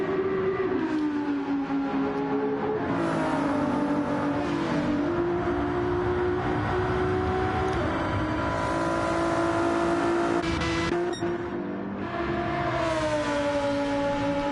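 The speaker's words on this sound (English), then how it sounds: "That V10 still sounds really good" A Lamborghini V10 engine in a racing video game holds a loud, steady high drone throughout, its pitch rising and dipping slightly with throttle changes and gear shifts, with no talk.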